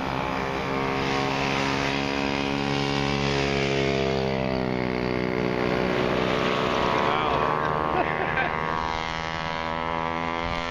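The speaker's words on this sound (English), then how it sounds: "Matsumoto's got a 50cc Honda 4-stroke shift kit" A racing cargo bike with a 50cc Honda four-stroke engine and shift kit, running at a race, gives a steady loud buzzing drone with rising and falling harmonic pitch as it revs, close and continuous.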